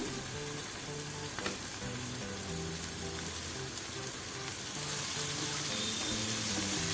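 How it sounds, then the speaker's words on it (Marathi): Shredded cabbage sautéing in a pan for a mixed-vegetable wheat pancake gives a steady, close sizzle with faint stirring scrapes, continuous and even throughout, with soft background music underneath. "पूर्ण भाजी आपल्याला शिजवायची नाहीये, फक्त थोडीशी मऊ होईल इतपत परतून घ्यायची"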